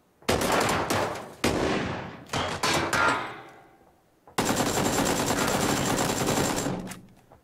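Gunfire from a video game comes in rapid automatic bursts. Several loud, dense volleys arrive at close range with short gaps between them, and nobody talks.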